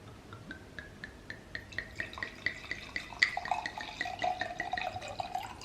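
Wine poured from a bottle into a glass at close range, a quick run of bright trickling and dripping splashes that builds into a steadier liquid flow toward the end, with no talking.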